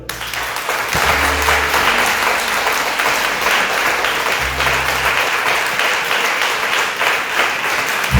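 A church congregation breaks into sustained, loud applause in praise of the Lord, a dense wash of clapping hands that fills the space for several seconds without pause.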